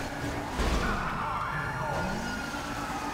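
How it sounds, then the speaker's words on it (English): A police car siren in the video game Grand Theft Auto V wails with rising and falling sweeps under continuous game noise, fairly faint as if passing at a distance. "Oh, that was a police car."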